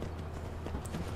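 Horse hooves clip-clopping in the Skyrim video game, a quick series of close, distinct hoof strikes over a low background rumble.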